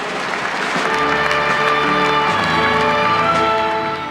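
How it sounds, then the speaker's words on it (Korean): A church congregation claps steadily to welcome Pastor Kim Sun-do of Kwanglim Church, a dense, sustained wash of applause filling the hall from start to finish, with a low tonal hum running beneath it. "환영해 주시길 바랍니다"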